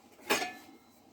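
A lid set down on a pot of millet and buckwheat cooking on a stovetop: one brief metallic clink with a short ring, close and fairly quiet, then a soft simmering hush.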